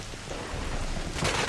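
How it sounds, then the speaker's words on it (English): Rain starting to fall in the video game Kena: Bridge of Spirits, a steady, dense hiss of rainfall that swells slightly louder near the end, with no speech. "all of a sudden it went dark and started raining"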